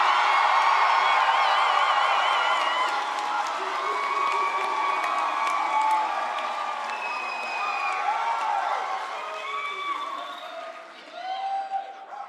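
Graduands at a SAIT spring convocation ceremony cheering loudly, a dense sustained crowd roar with whoops and shouts that dips slightly near the end.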